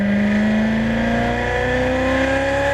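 Race car engine on a track during a driving experience, a loud, steady high-revving drone with a pitch that climbs gradually under throttle, close and continuous with no talk.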